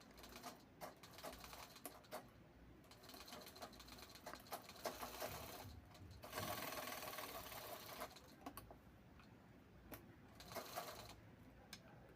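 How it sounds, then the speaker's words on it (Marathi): A sewing machine stitching along the side of traditional khan fabric, faint rapid mechanical chatter in bursts with short pauses, a longer steady run partway through, close but quiet. "आपण पहिल्यांदा सारी बाजूने शिलाई करून घ्यायची आहे"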